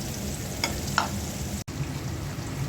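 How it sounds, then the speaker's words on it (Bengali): Fish fry in a pan and get turned, with a steady sizzle, a couple of brief clinks from the flipping, and a momentary drop partway through. "মাছগুলো একটু উল্টে দিচ্ছি দুই পাশে।"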